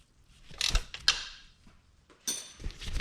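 A wrench tightening a 14mm bolt on intercooler piping during a front mount intercooler install on a Subaru STI, heard as a few close ratcheting creaks and metallic clicks in separate bursts.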